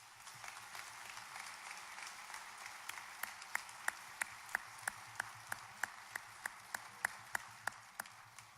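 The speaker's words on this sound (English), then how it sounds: "Please join me in applause" Quiet applause from a small audience at a veterans honoring ceremony, soft scattered clapping joined by a few sharp, regular claps nearby that rise to a steady beat.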